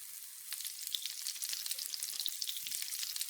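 Garlic meatballs frying in a pan give a steady, bright sizzle with crackling spits and pops, close and continuous, with no voices.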